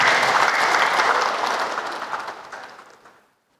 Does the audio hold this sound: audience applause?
yes